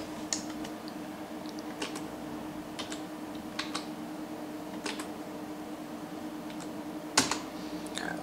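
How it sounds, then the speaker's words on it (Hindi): Typing on a computer keyboard while modelling in Sketchup: scattered, irregular key clicks over a steady fan-like hum, with a sharper clack near the end. "उसके अनुपात आप सीधे अपने कीबोर्ड का उपयोग करके लिख सकते हो।"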